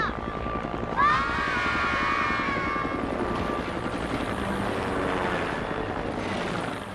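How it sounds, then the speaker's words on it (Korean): A helicopter drones steadily and loudly for several seconds, its rotor chop and engine whine filling the scene in a continuous wash of noise. "헬리콥터다 헬리콥터."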